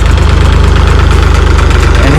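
A tractor engine idles close by with a steady, loud, rhythmic chugging throb that runs throughout without a break.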